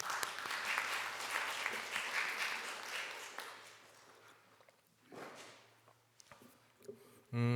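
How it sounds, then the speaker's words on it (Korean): Church congregation applauding during a baptism-day service, a dense steady clapping that fills the first five seconds, then thins to scattered claps before a brief louder burst at the end. "주님께 영광의 박수 한번 올려드리겠습니다"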